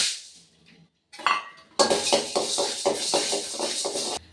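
Urad dal tipped into a pan in a home kitchen: a short rattle and clatter of lentils landing, followed by a steady run of rhythmic metallic scrapes and clinks of stirring against the pan.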